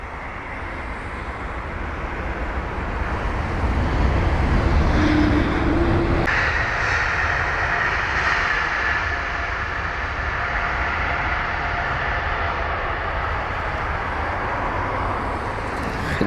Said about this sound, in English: There's this Swiss A220-100.